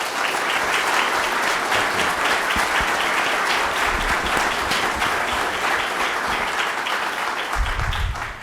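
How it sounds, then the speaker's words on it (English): Sustained audience applause fills an auditorium after a Virginia State Senate District 28 candidate debate, with steady, dense clapping lasting throughout and no talk over it. "I think they deserve a round of applause."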